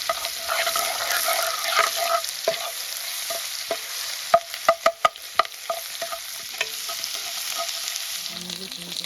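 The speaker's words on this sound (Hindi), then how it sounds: "ये जो अदरक लहसुन का पेस्ट है इसको हम हल्का सा फ्राई कर लेंगे" Oil sizzles steadily with ginger-garlic paste frying in it, broken by sharp stirring clicks and scrapes of a utensil against the pan.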